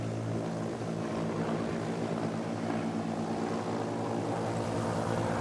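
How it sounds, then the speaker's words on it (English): Supermarine Spitfire propeller fighter making a top-side pass over an airfield at an airshow, a loud, steady engine drone with propeller buzz that holds strong throughout, no voices. "Beautiful top side pass there again, showing the beautiful wing design of the Spitfire."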